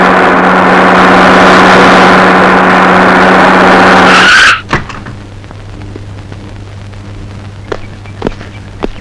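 A bus roars past close and loud with a sustained engine rush and a brief screech of brakes or tires, then cuts away to quiet with faint scattered knocks.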